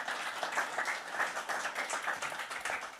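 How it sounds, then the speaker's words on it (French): An audience at a French conference on privacy enhancing technologies applauding a speaker, a steady, moderately distant patter of clapping hands with no voices over it. "Merci Daniel, on peut l'applaudir."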